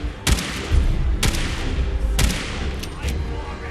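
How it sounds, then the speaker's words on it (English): Pistol gunshots from an HK VP9 in Fallout 4 crack out sharply, about four spaced shots over a few seconds, each with a short booming tail. "I feel like that's a pistol."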